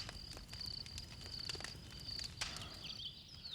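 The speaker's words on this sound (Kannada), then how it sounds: "ಚೀರುಂಡೆಗಳ ಸದ್ದು ನಿಮಗೆ ಕೇಳುತ್ತಿದೆಯೇ?" Crickets chirp in a forest, a steady high-pitched trilling in repeated pulses with faint rustling below, no voices.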